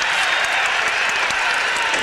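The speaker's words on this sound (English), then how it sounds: "With that 3-pointer, the crowd really started to get into it here." A basketball arena crowd at a Bulls versus Pacers game cheers and applauds loudly and continuously, a dense roar of voices and clapping filling the space.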